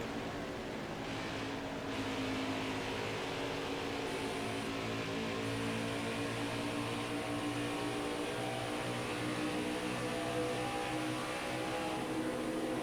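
A NASCAR stock car engine at the Brickyard 400 in the NASCAR Heat 5 video game holds a steady, loud drone, easing slightly as the throttle lifts, with a continuous high whine throughout.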